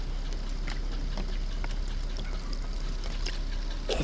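Bottled water poured over the leaking sunroof of a 2012 Infiniti G37 runs down in a steady, hissing, splashing wash, continuous and fairly loud throughout.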